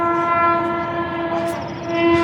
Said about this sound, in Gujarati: ટ્રેન જોયું ટ્રેન